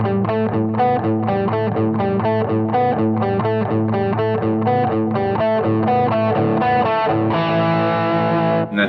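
Distorted electric guitar riff from a song, played as a lesson example: a steady run of heavy chugging notes in an odd-time pattern that ends on a sustained ringing chord. Loud and close, with no talking.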